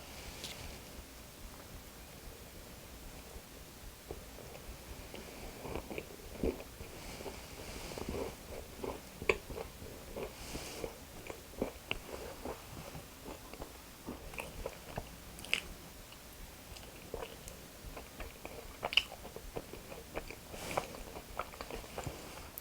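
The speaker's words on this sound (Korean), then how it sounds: "스콘은 제 스타일이 아니지만 먹어보겠습니다." Someone eats a scone from a bakery, with soft, close biting and chewing that recurs steadily against quiet background rustle and no talking.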